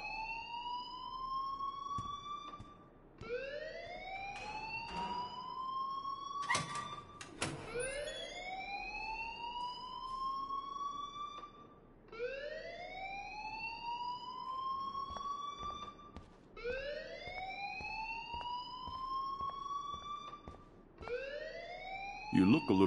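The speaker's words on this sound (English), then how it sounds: "please turn off that alarm since that's your job" In the video game Life Is Strange, a rising, wailing alarm repeats in long upward sweeps about every four seconds, steady and prominent for the whole stretch, with occasional brief knocks between cycles.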